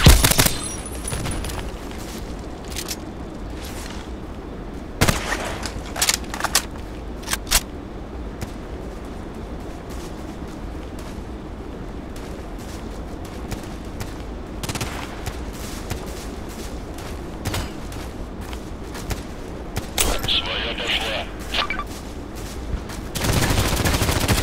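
An AS VAL rifle with a Kobra sight fires in the video game Contract Wars on the Site map. Sharp shots and short bursts come at irregular intervals over faint background game ambience.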